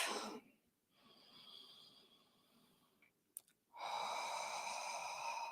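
Slow guided breathing in and out through the nose during a quiet meditation, a long soft inhale, a pause, then a louder sustained airy exhale, close to the microphone.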